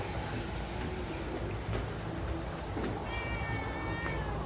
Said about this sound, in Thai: นี่ครับนอนสบายเลยครับผมลูกแมวนะครับแมวน้อยนะครับ